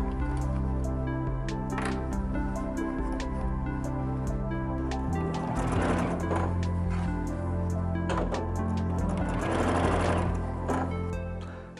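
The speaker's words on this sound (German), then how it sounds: "Und dann kann ich ganz problemlos von rechts anfangen zu nähen." An NX7 sewing machine stitches chino trousers, its steady rapid needle hum running continuously at close range with a few slight shifts in pace.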